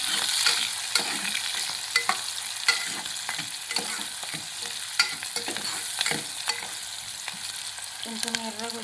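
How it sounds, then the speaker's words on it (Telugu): Chopped onions fry in a pan for an eggplant curry, a steady sizzle under repeated scraping stirs of a spoon at irregular intervals, close and moderately loud with no talk. "కట్ చేసి పెట్టుకున్న ఉల్లిగడ్డ బాగా ఎర్రగా రావాలి కలుపుకోవాలి ఈ విధంగా"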